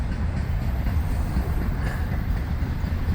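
A train rolls past a grade crossing south of Daytona, a loud, close, continuous rumble of rail cars with rhythmic wheel clatter sustained throughout, no voices.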